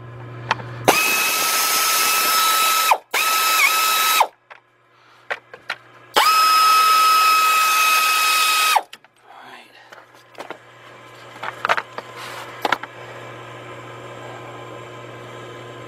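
A power ratchet whirs loudly in three sustained bursts, removing bolts during a timing belt job on a 2002 Dodge Stratus 2.4 engine, followed by quieter scattered clicks and handling noises.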